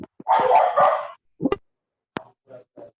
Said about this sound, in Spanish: Por favor, callen los perritos que no se escucha nada.